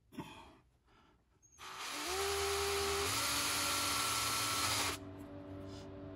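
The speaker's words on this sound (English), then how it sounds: "start the drill bit slow" A drill bit bores into the soft body of a homemade platypus fishing lure, giving a loud, close, steady whine of about three seconds that climbs slightly in pitch before cutting off abruptly.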